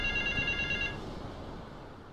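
A phone in GTA Vice City gives a short electronic ring for about a second, then cuts off and leaves low, steady game ambience.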